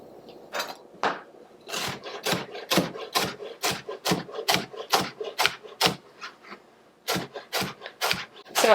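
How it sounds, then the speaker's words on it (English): A knife cuts through fresh rhubarb stalks on a wooden board for jam, giving a steady run of crisp, close chopping strokes, about two a second, with a brief pause before a final quicker burst. "So I'm starting with slicing the rhubarb."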